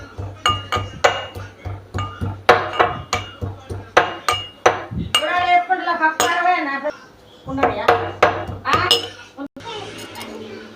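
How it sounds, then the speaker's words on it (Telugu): Garlic being pounded in a mortar while cooking a bitter gourd curry, repeated sharp knocks in a steady rhythm, close and fairly loud, with a brief pause partway and a person talking now and then. "నా ఎల్లిపాయలు దంచుకుంటానండి."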